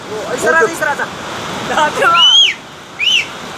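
Rushing floodwater after a cloudburst near the Amarnath Cave in Pahalgam makes a steady broadband roar, while excited voices shout over it in short bursts.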